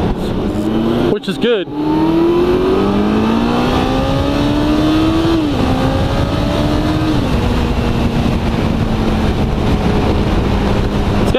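A Kawasaki ZX14 motorcycle engine pulls hard and climbs in pitch, its loud steady drone running close throughout, with a brief burst of wind buffeting early on and a voice talking over it.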